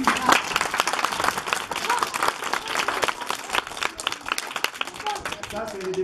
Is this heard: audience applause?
yes